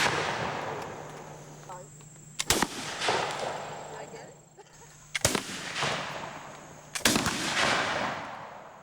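Three sharp, loud musket shots fired at a wooden fort stockade, each a sudden crack followed by a rolling boom and echo, spaced a couple of seconds apart outdoors, with people talking faintly between them.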